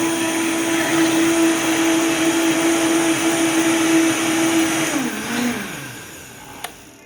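A blender pulverizes dried chilies for a beef birria sauce, running as a loud steady whir for about five seconds, then winding down with a falling pitch before a single faint click near the end.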